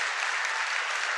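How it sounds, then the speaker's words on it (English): Steady, dense applause from a lecture audience, a continuous wash of many hands clapping at even loudness, with no voices over it. "Please give a warm round of applause."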